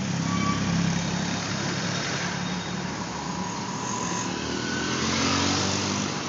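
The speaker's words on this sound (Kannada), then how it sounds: "ಫುಟ್ಪಾತ್ ಮೇಲೆ ಬೈಕು." Traffic along Kanakapura road in Bangalore with a motorbike on the footpath, a steady loud wash of engines and road noise without talking.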